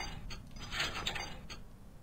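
Quiet ratcheting clicks and gear rattles come from removing the reduction drive of an aircraft engine in Plane Mechanic Simulator. The short mechanical taps are spread unevenly over two seconds.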